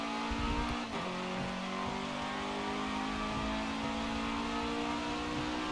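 Race car engine in Forza Motorsport 7 holding a steady high-revving drone with a brief shift dip, continuous and even, with no talk over it.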